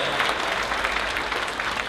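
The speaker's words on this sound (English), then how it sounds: "Give yourself a big round of applause" A concert audience at the 2018 East Texas Angel Network benefit concert breaks into steady, full applause, with dense clapping held at an even level from start to finish.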